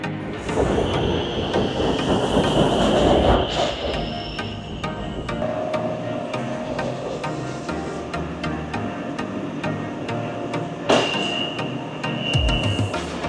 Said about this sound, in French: Je suis au niveau du métro de Bangkok, donc le BTS, donc station Asok